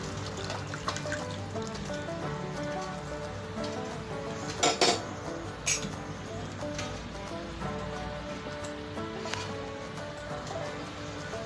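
Milk poured into a pan with ghee while making homemade khoya, a soft liquid trickle under faint clinks of a metal pot and utensil, close and quiet, with no talk.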